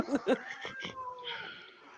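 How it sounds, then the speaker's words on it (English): An upset pet cat lets out a few short, strained meows and a drawn-out wavering caterwaul, fairly close and moderately loud. "Now you've upset the cat, Nick."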